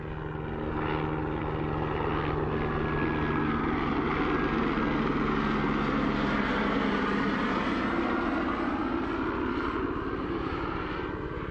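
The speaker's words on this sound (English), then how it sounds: "And here comes a helicopter overhead." A helicopter drones steadily overhead in Death Valley, its engine roar and rotor hum loud and sustained, with no voices.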